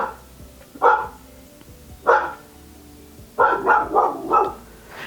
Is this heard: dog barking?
yes